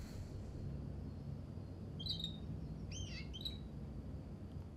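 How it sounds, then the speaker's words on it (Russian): Bird in the video game Heavy Rain, a few brief high chirps and tweets in two small clusters over a steady low ambient hum, no speech. "Так, птица."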